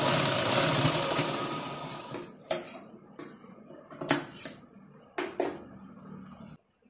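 A sewing machine stitches blouse fabric in a steady whirring run for about two seconds. Then come several short separate bursts of stitching with quiet gaps between them, close to the microphone.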